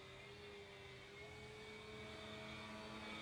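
Horizon Hobby Carbon Z Cub SS 2.1m RC airplane droning overhead, its electric motor a faint, steady whine that slowly shifts in pitch and grows slightly louder as it flies, heard alone.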